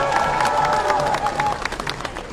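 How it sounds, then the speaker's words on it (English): A crowd at a Palestine march in Leicester claps and cheers in a brief burst of applause. The clapping is dense at first and thins out toward the end. "Give yourselves a big round of applause for being here."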